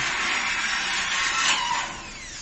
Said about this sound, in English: Okay, drill.